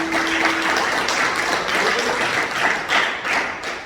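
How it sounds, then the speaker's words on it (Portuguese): A church congregation claps in praise, a steady dense patter of many hands filling the room at close range, with no voices over it. "as palmas que louvam o nome do Senhor Jesus"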